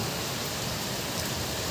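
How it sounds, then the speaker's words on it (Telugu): Heavy rain falls steadily as a dense, unbroken hiss that fills the whole stretch, with no voices or thunder. "వాటర్ మాత్రం మామూలుగా పడట్లేదు వర్షం."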